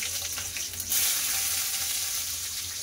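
Whole spices (three cardamom pods, five cloves and a piece of cinnamon) crackle in mustard oil in a wok, with a continuous close sizzle that swells sharply about a third of the way in.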